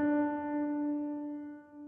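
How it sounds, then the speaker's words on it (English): A single soft, sustained atmospheric trailer-style piano chord rings out and slowly fades, airy and reverberant, with no voices. "this Atmos piano for the most common piano sound that you can hear during the beginning of most modern trailers"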